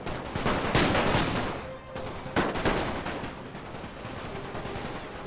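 Dense gunfire and explosions in a Total War: Napoleon World War I mod battle, with sharp loud shots at the start and a continuous crackle of distant firing throughout.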